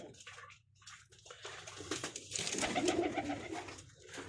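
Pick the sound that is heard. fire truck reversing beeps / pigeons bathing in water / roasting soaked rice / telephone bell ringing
pigeons bathing in water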